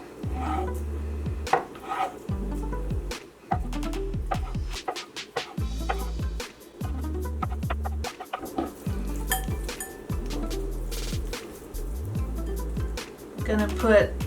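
Knife chopping food into cubes on a cutting board in a home kitchen while making vegan meal prep, with repeated dull thuds in an uneven rhythm and a voice talking over them.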